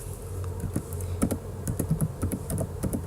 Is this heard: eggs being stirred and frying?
no